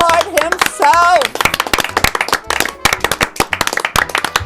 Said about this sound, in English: Everybody give a round of applause for David Liebe Hart himself.